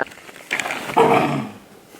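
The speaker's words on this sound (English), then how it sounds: "That was more of a snarl." A puppy gives a short snarl, two brief growly bursts close up, the second louder and rougher, with quiet moments around them.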